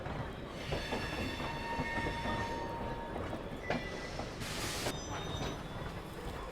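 A train leaving Hazrat Nizamuddin station in New Delhi rumbles steadily close by, with a thin squeal of wheels and a bright burst of hiss partway through and no talk.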